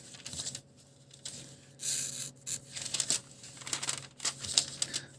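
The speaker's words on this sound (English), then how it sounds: "So I'm going to cut this window off." Scissors or a blade cut through a used paper envelope close by, with quiet bursts of crisp snipping and paper crinkling separated by short pauses.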